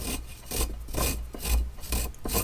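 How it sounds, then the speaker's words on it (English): Fresh ginger is grated in a kitchen with rhythmic back-and-forth rasping strokes, about five close, even scrapes with no voice over them. "just want to take this and grate it"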